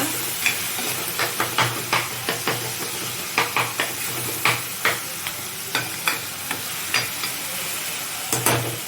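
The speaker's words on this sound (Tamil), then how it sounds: "நல்லா வதக்கிக்கோங்க" Ingredients for a fish kulambu with raw mango sauté in a pan, a constant hiss of frying under a regular string of spatula scrapes and taps against the metal, close and fairly loud.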